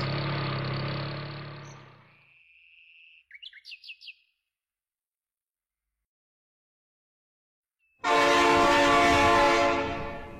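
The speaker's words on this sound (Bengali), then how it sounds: "ট্রেন চলে যায়।" A loud train horn blares, falls silent, then returns with a burst of whistle-like chirps in between before another long horn blast.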